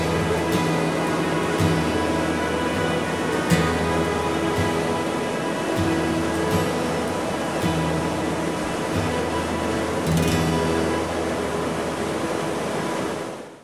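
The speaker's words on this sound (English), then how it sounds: "It is this hollowing in the wall that permits you to walk behind the waterfall." Waterfall in the stone gorge at Watkins Glen State Park, a loud, steady broadband rush of falling water heard close up, constant without pauses.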